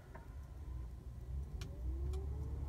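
A brand-new HGV truck engine tries to start, giving a steady low mechanical rumble with faint ticks throughout, close by with no talking.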